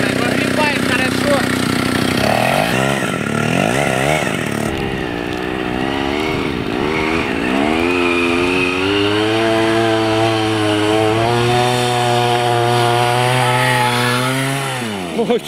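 A chainsaw engine drives a homemade snowmobile built from a sleigh, running across snow. The loud, buzzing two-stroke note revs up and down in pitch and runs almost continuously, close by.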